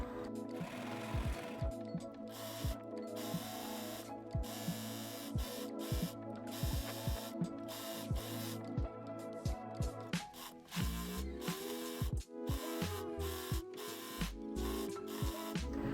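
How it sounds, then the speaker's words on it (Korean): An overlock sewing machine serges the hems of a skirt's lining and outer shell, running in a steady close mechanical whir with rapid stitching clatter, briefly pausing and restarting near the end. "그리고 안감과 겉감의 밑단을 오버로크 칩니다."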